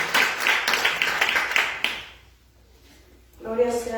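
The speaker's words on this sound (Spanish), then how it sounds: "denle un aplauso al Señor." A church congregation claps during a Spanish-language service, a burst of fairly loud, dense clapping for about two seconds that fades out, followed by someone speaking.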